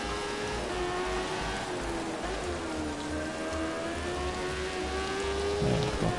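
Rain hisses steadily over a slippery racetrack in the motorcycle game Valentino Rossi The Game, with a bike engine's whine rising and falling underneath and no voices.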